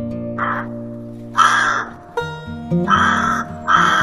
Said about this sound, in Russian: Грач.